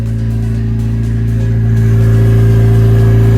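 A loud, raw Nissan Silvia drift car engine rumbles without a muffler, its deep drone rising slightly as it revs up partway through.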